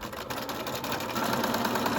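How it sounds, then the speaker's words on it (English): A sewing machine with a size 80/12 universal needle runs a continuous rapid stitching buzz down a wrap dress skirt seam, steady and close with a slight rhythmic flutter. "I'm stitching from the top of my skirt all the way to the bottom"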